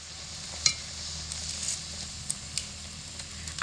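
A sticky raw mango mixture cooks in a pan for laddu, a faint continuous sizzle under a few scattered scraping and clinking stirs against the pan, quiet and close with no voices.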